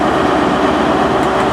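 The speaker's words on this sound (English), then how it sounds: "the Paddington train sneaked out" Paddington train departing a station, a continuous loud rumble of rolling rail wagons and engine with steady mechanical noise, heard close by.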